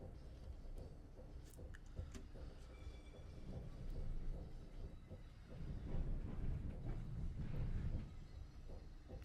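Train wheels roll over rail joints in Train Sim World on the Northeast Corridor, giving a steady low rumble with faint rhythmic clicks that swells as the train gathers speed, no voices.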